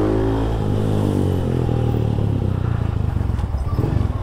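A motorcycle fitted with a 30-hole needle jet accelerates on a test ride, a loud close engine drone building with a pulsing, rising note and wind noise.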